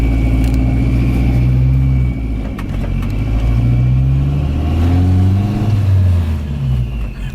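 A built Volvo's engine revs loud and close, rising and falling twice with a steady high turbo whine running above the engine note throughout.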